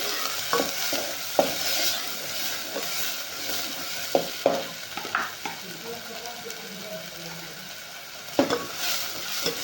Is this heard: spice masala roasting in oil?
yes